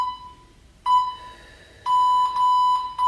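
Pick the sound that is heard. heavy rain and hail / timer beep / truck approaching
timer beep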